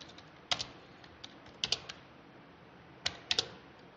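Computer keyboard keys tapped while entering Java code, in short scattered clusters of crisp clicks with pauses between, close and fairly quiet over a faint steady hiss.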